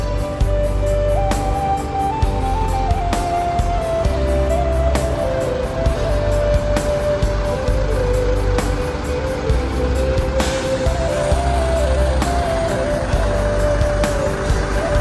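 A double-decker intercity bus on Indonesia's longest route, the Sempati Star, idles nearby with a steady low diesel rumble and a humming drone, with intermittent clicks and knocks over the continuous engine noise.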